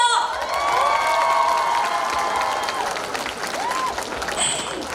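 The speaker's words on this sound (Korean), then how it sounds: "여러분 박수 한번 주세요" Audience applause with some cheering at an outdoor festival concert, a dense, steady clatter of clapping from a large crowd lasting throughout, mixed with a few whoops and sustained tonal music or feedback underneath.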